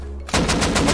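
Rapid automatic gunfire in the survival video game Rust, a loud burst of closely spaced shots after a brief low hum, with no talk.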